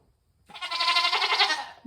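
A goat bleats in a long, loud, quavering call close by, one sustained cry with a wavering tone that breaks off near the end before a short new sound starts.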